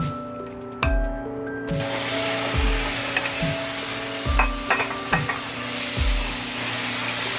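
Prawns hit hot mustard oil with a loud sizzle that settles into steady frying, broken by rhythmic scraping and clinks of a spoon stirring the pan.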